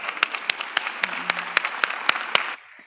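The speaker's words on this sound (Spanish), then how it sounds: "Un fuerte aplauso para ellos." Applause from a small panel forum audience, with a few loud, sharp claps standing out over softer clapping in a fairly regular beat, then cutting off abruptly near the end.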